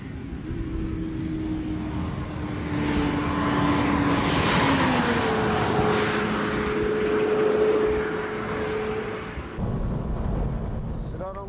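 A Honda Integra DC5 Type R at full throttle on a test course in strong wind, a steady engine drone climbing and holding pitch over heavy wind rumble, heard from a distance.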